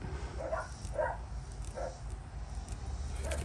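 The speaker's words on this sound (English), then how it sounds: "You hear the dogs and they're going crazy." Several distant dogs bark in short, scattered yaps against a low background rumble, faint and irregular.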